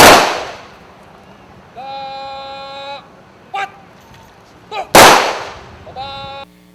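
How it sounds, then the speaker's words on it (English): Rifle volleys of a 21-gun salute at a military hero's burial: two sharp, loud blasts about five seconds apart, each with a ringing decay, and a voice speaking in the gap between them. "Gunshots echoed again in the air as a 21-gun salute is rendered"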